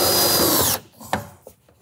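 A power drill drives a threaded fastener through butyl tape into a standing seam roof sidewall, a loud steady whir for under a second that stops abruptly, followed by a few faint handling knocks.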